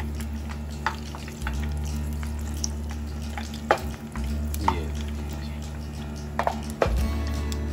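Oreo cookies frying in hot oil give a steady, close sizzle, with a few scraping clicks as they are turned over partway through.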